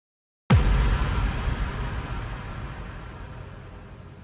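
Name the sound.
layered low impact and high impact sound effects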